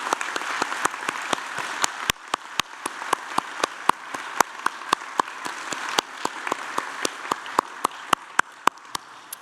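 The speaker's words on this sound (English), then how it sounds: "I'd like the audience to join me in applauding the wonderful achievements of these graduates" An audience applauds graduates at a University of Newcastle graduation ceremony in Australia, with steady, moderately distant clapping from many hands and occasional sharper individual claps throughout.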